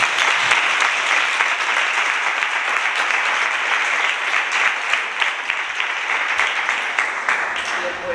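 An audience at a talk event gives sustained, loud applause, with many hands clapping in a steady, dense patter that lasts throughout.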